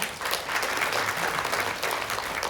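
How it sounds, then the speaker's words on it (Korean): Applause from forum attendees at a Jeju Provincial Council session, an even, moderately loud wash of many hands clapping throughout, with no voices on top. "다시 한번 큰 박수 부탁드립니다"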